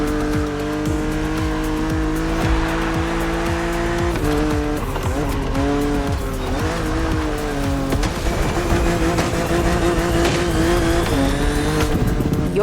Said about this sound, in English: Your car is the Z4 E89